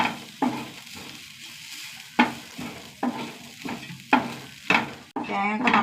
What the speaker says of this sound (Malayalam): നന്നായി വറുത്തെടുക്കാം.